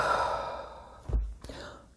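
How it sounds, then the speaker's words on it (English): A slow, deep breath drawn in during a guided beginners' meditation session, an airy breathy rush followed by a brief soft release, close and fairly clear with no speech over it. "take a nice deep breath in"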